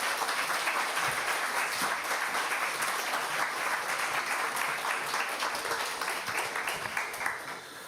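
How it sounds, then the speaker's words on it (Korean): A church congregation at a Sunday service in Osaka claps in sustained, dense applause that holds steady and fairly loud for about eight seconds, with no voice heard over it. "큰 박수로 환영해 주시기 바랍니다"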